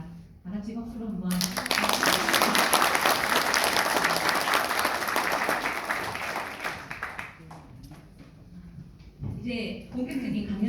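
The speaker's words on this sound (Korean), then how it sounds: "다 같이 박수로 한번" Audience at a lecture bursts into loud, sustained applause after a spoken prompt, dense clapping that gradually thins and fades, with a voice speaking before and after.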